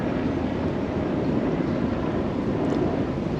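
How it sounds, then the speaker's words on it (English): Steady low rumble of helicopters overhead in New York City, a continuous droning roar with wind-like noise and no voices. "If you're picking up all the noise from the helicopters flying over, it's crazy."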